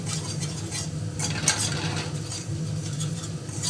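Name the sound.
stirring and frying spices for boal fish curry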